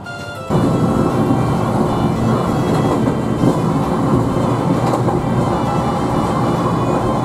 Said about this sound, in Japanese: KTX がちょうど通過してきました